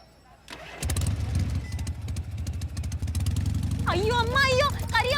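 A motorcycle is started with its electric start button. A brief crank gives way to a steady, throbbing idle, loud and close, while a voice speaks over the running engine.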